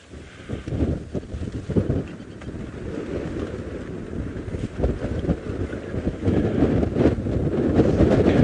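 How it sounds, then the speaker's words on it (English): Heavy wind buffets the microphone on an evening safari drive, a loud continuous rumbling roar that surges and gusts throughout, with no talking. "Can't even think with this wind pounding through here."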